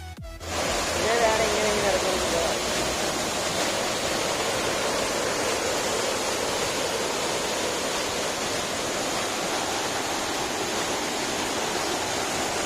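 River water at Passukadavu crashing over rocks and spraying, a loud, steady roaring rush heard close by and filling the whole stretch without pause.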